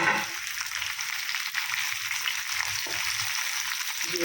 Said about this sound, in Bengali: এটা ভালো করে একটু ভেজে নিই রসুনটা